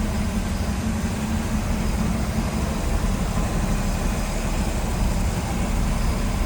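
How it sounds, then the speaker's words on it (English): A 1968 Chevrolet Camaro convertible with a 427 V8 idles smoothly and steadily, a continuous low rumble held close and even for several seconds with no talk. "Nice smooth running engine."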